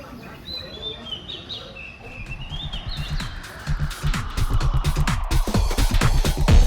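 Tropical birds chirp and whistle in lush greenery on a morning walk near the north end of Patong Beach, with a steady hum of insects and rising rhythmic ambient noise beneath the calls.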